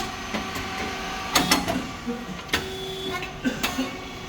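Rice cake machine SYP9502 with motors, pump and fan running, giving a steady mechanical hum broken by sharp clanks and knocks from its moving parts, loud and close, with no talking.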